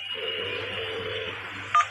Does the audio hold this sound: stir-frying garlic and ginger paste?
no